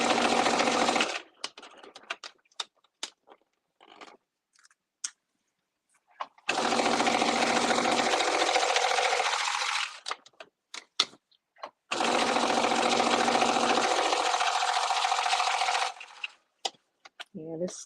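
A home sewing machine runs three long, continuous bursts while stitching a hem, loud and close, with brief clicks and handling noises between runs.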